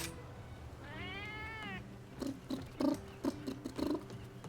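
A cat meows once, a clear rising-and-falling call standing out near the listener, followed by scattered clicks and knocks of background activity.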